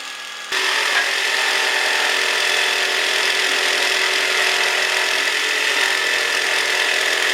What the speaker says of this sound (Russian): Теперь нам остается вырезать днище лобзиком и сделать на нем фаску.